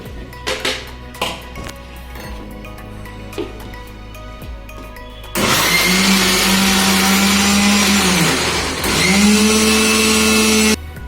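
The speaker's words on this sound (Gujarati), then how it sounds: "ચીકુનો હલવો બનાવવા માટે હું ચીકુને પહેલા ક્રશ કરું છું।" Blender crushing chikoo (sapodilla) fruit for halwa, whirring loudly and steadily for several seconds, briefly pausing, then starting again, after scattered kitchen clatter at the start.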